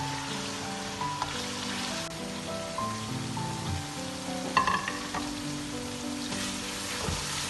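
Masala frying in oil in a pot for a mutton trotters and brain curry, a continuous crackling sizzle with occasional clinks and scrapes of stirring, heard close and alone.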